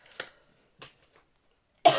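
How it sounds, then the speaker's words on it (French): Several coughs: two short, separated coughs near the start, then a louder, harsher cough at the end, with quiet gaps between them. "vous allez en avoir marre de m'entendre tousser"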